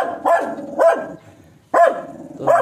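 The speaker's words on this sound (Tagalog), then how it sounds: "Aso." A dog barks four times in a loose rhythm, fairly close, with short pauses between the barks.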